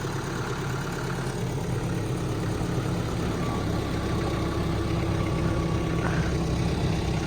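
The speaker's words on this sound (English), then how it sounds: "Thanks for the tractor, Ed." A steady, rumbling tractor engine idles continuously at an even level, close by, with no other sounds standing out.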